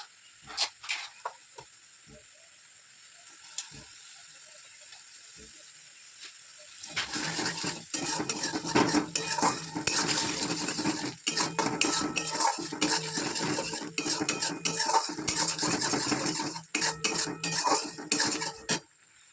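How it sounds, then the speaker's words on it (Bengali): Spices with water being stirred and sautéed in a metal pan for khichuri, heard as a dense run of scraping and clinking utensil strokes with sizzle, loud and continuous after a sparse, quiet opening of a few isolated clinks. "তোমাদেরকে দেখাচ্ছি জল ঢেলে দিয়েছি কষিয়ে নিচ্ছি"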